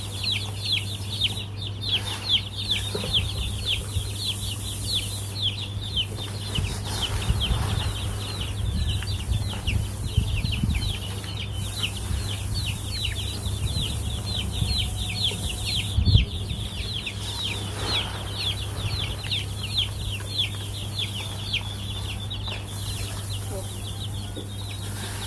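Chickens and ducks cluck and call on and off under constant high chirping from birds or insects in an outdoor farmyard.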